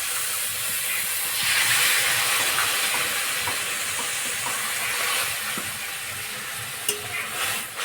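Water poured into a hot pan of dalia pulao, a steady rushing hiss of steam and bubbling that swells early and then settles, with a few light clinks of a utensil near the end.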